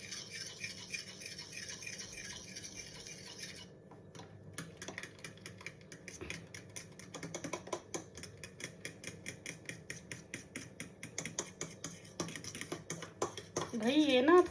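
Chocolate cake batter of curd, cocoa and flour is stirred in a bowl, a steady run of quick scraping clicks that speeds up toward the end, fairly faint and close, with a person talking at times.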